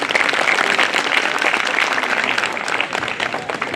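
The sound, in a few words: audience applause at advocate enrolment ceremony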